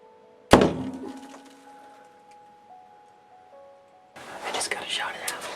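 A bow's top limb strikes the ceiling of a hunting blind on the shot at a javelina, a single sharp thunk with a ringing tail, followed by soft whispering a few seconds later.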